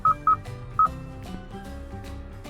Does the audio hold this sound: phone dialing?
yes